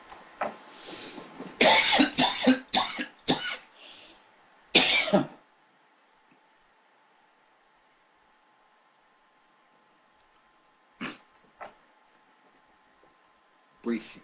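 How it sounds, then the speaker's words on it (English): A man coughs repeatedly in a tight cluster of harsh bursts, then falls quiet before two more isolated coughs follow much later, all close and clear over a faint background hum. "Brief break there to engage in coughing"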